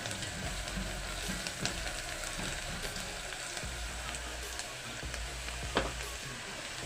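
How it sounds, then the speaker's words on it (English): Pounded garlic frying in a pan for ndengu (green gram) samosa filling gives a steady, close sizzle throughout, with faint scrapes and small clicks scattered over it. "And leave it to cook for the garlic to get cooked."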